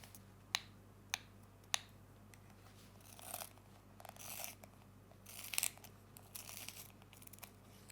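Faint, uneven grinding and scraping from a manual pencil sharpener working a pencil, in several short bursts after a few sharp clicks, close and quiet in an otherwise hushed room.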